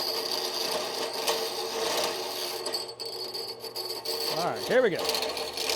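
Saw blade cutting through material during a Recon-12 aircraft cowl and firewall build, a loud steady rasping drone running throughout with a brief dip midway, and someone speaks briefly over it.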